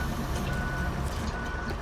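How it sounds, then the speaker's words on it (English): A vehicle in reverse gear sounds its backup alarm, a steady high beeping that keeps going over the rumbling engine idle of a heavy machine, sustained and fairly loud with no voices. "forget to shift into forward so we can get rid of the beeping sound"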